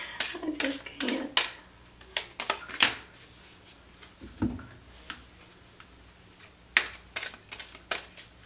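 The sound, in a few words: shuffling tarot cards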